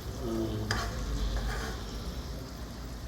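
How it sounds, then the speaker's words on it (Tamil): A dish bubbles and sizzles steadily in a pan as it simmers, a close, continuous crackle with a faint clink near the start. "இது எவ்வளோ நேரம் அப்படியே கொதிக்கணும்."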